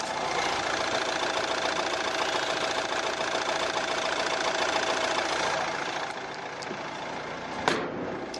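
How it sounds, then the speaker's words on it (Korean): A Nissan Qashqai diesel SUV engine idles with a steady, even rumble and faint knocking, dropping slightly quieter near the end, with a brief click. "지금 바로 캐시카이 차량의 엔진 소리 한번 자세하게 들어보시죠"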